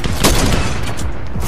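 Rapid gunfire from players shooting in a Fortnite match, a short, loud burst of overlapping shots with a sharp crack near the start.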